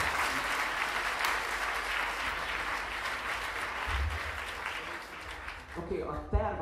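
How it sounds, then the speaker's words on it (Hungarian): Steady applause from a seated audience at a church worship-leader seminar fills the space, broadband and continuous, thinning toward the end with a few louder claps and a hint of voices. "Egy nagy tapsot adjunk még nekik,"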